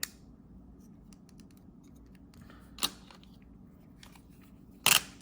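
A few sharp plastic clicks from the stuck left trigger button of a Game Boy Micro sound against quiet background noise, a faint one at first and a louder double click near the end.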